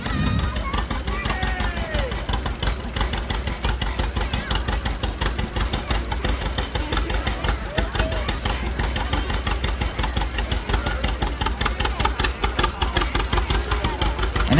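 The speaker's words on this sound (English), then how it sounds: "Let's welcome Dylan Leeds, driving his John Deere 1936 B tractor" A 1936 John Deere B tractor rolls along a festival parade route, its engine pounding out a rapid, steady chuffing beat throughout, with an announcer's voice and crowd sounds over it.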